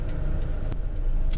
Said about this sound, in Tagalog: Masyadong traffic. Sa labasan pa lang dito sa may bahay,